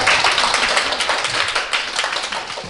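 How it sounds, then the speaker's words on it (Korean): Audience at a poetry reading applauding the poet, a loud, sustained round of clapping that tapers slightly toward the end, with no talking. "오늘 이렇게 말씀을 많이 해주신 서현우 시인께 큰 박수 부탁드립니다"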